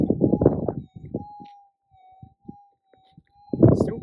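Metal detector searching over a deep gold target in the Tibooburra goldfields, giving a faint steady tone that wavers in and out between bursts of someone talking before and after.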